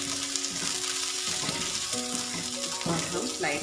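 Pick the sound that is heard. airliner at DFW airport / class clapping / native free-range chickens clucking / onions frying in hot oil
onions frying in hot oil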